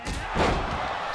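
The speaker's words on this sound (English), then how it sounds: "Super kick." A superkick lands in a wrestling ring, a single heavy slap-thud partway through, with crowd noise and an announcer's voice mixed around it.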